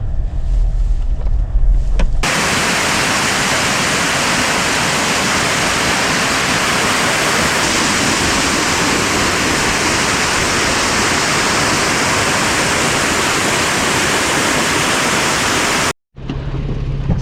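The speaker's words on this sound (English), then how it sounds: "It's Mouse Creek Falls." Mouse Creek Falls pours with a loud, steady rushing roar heard up close, broadband and unbroken for the whole stretch, with wind buffeting the microphone.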